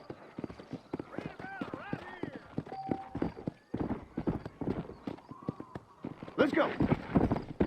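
In the Red Dead Redemption video game, a horse's hooves trot in rhythmic clip-clops, with a snort or whinny mixed in and a voice speaking briefly over the hoofbeats.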